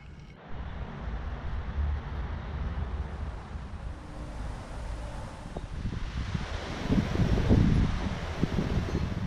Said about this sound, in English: wind and weather isn't ideal to be out fishing this morning